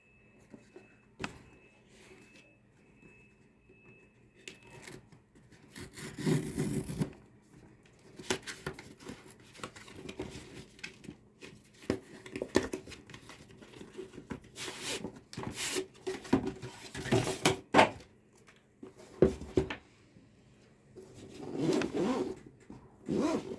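A GoPro Hero 9 Black box is opened: faint, close packaging sounds of tearing, crinkling and cardboard scraping in irregular bursts, with scattered taps and shuffles, no talk.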